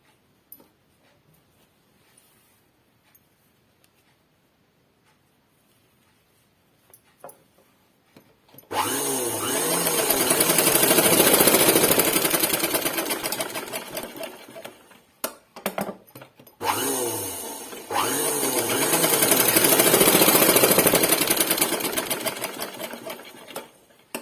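A sewing machine joining skirt panels runs in two long continuous bursts of rapid whirring stitches, loud and close, after several quiet seconds and a brief pause between runs.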